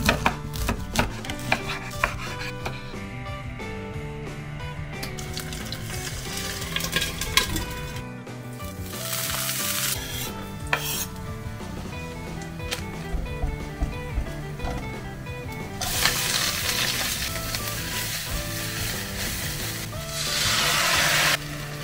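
Water spinach stir-fries in a pan in short bursts of loud hissing sizzle, separated by clinks and cooking noises, with background music throughout.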